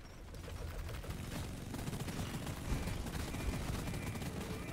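Dense, continuous gunfire from the Deep Rock Galactic game, a rapid fusillade of overlapping shots roaring loud and steady throughout.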